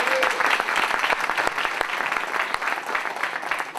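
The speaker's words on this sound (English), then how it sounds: "let's give him a round of applause" An audience at an institutional gathering gives a round of applause, brisk dense clapping with distinct sharp hand claps popping out, staying loud throughout and easing only slightly near the end.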